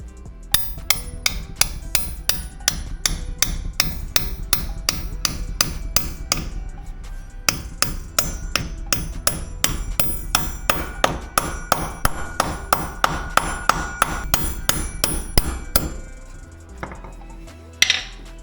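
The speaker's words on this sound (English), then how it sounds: "I'm going to go ahead and put this right in the middle and just hammer." Loud, sharp metallic hammer strikes on a socket repeat in a steady rapid rhythm for about fifteen seconds, briefly pausing midway, then stopping with a final clank.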